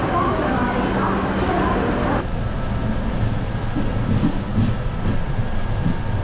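The Janashatabdi Madgaon Express runs along the line with a loud, constant rumble of wheels and carriage noise. A louder section drops off partway through, and muffled voices sit under the din.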